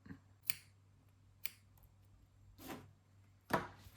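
Scissors snipping T-shirt yarn on a handmade bag, four separate crisp cuts spaced about a second apart, close and quiet, with no talk.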